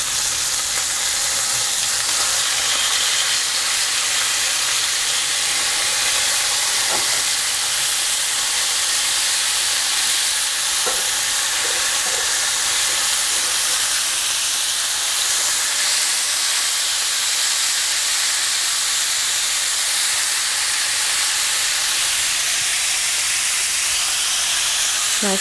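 Asian zing ribeye steaks fry in a hot pan with a steady, loud, hissing sizzle that runs unbroken throughout, with a few faint clinks of utensils and no talking.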